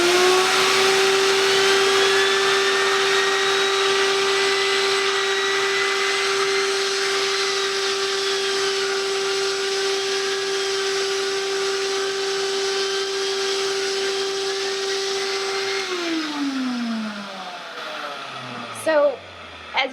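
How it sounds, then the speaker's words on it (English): A loud, steady motorized whir from a vacuum-powered spinning curry brush for animal grooming runs continuously, then winds down with a falling pitch and stops near the end. "I'm going to flip on the vacuum and show you what it looks like while it's rotating"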